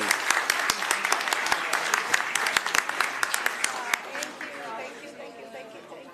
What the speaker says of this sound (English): Let's give our code enforcement officers another big round of applause.